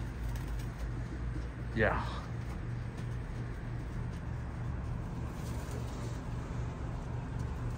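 Racing pigeons coo in a loft, with one short rising call standing out over a low constant hum, and a person says a word nearby.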